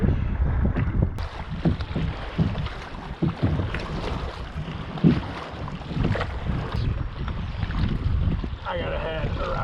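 Strong wind roars across the microphone while kayaking on Hungry Horse Reservoir, a loud, continuous buffeting with gusts that swell and fade and faint water sounds beneath.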